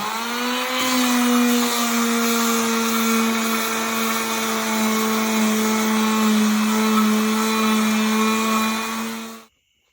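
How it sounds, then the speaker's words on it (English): A power sander runs steadily and loudly, smoothing a wooden half hull model of a Haven 12 1/2 boat, its even motor whine holding a constant pitch for nearly ten seconds before cutting off abruptly. "Every once in a while I like to take the sander to it, just kind of smooth it down."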